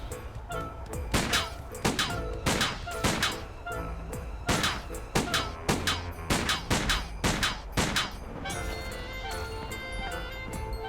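Gunfire in the Sam & Max Beyond Time and Space Remastered adventure game: a run of sharp shots in irregular bursts over about eleven seconds, close and loud over a steady bed of game music and ambience.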